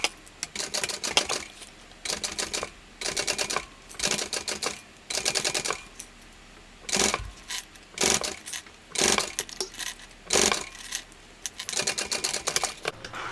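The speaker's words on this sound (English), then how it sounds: "I'm going to do 2 rows of top stitching" A sewing machine top stitches a tote bag in repeated bursts of rapid mechanical clatter, each run lasting about a second with short pauses between, close and fairly loud.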